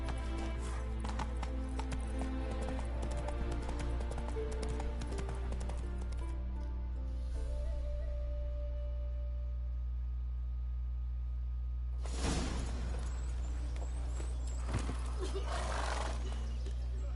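A horse in The Witcher 3 gallops with rapid clip-clop hooves and neighs, moderately loud over a steady game hum, then the hoofbeats fade before a brief burst of rushing noise.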